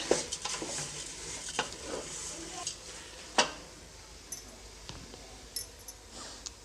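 Washed rice being stirred into a hot pan for Indian tomato bath, giving faint scraping and sizzling with scattered clinks of a spoon against the pan, quiet and close with no talk.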